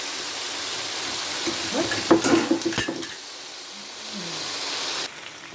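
Sun-dried beef sizzling in a hot pan, a steady hiss with a burst of utensil clatter and scraping partway through.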